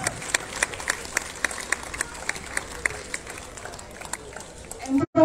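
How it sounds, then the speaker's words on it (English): A crowd gives a round of applause at a prize distribution for an under-14 girls football league in Goa, with scattered sharp claps over a murmuring background that trails off near the end. "A round of applause to the entire committee here."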